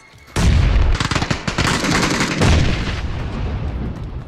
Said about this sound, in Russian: Дал туда гранату.